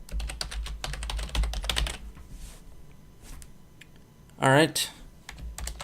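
Rapid keystrokes clatter on a computer keyboard in a quick, steady burst, close and fairly loud, then thin out; a person speaks briefly near the end.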